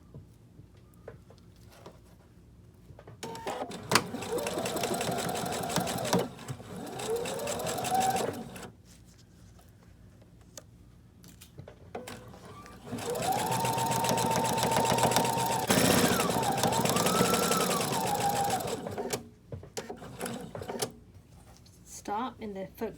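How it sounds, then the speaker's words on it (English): A sewing machine runs a straight stitch in two long whirring bursts with a steady motor tone, separated by quiet handling sounds, while a person talks at times. "we're going to do a straight stitch"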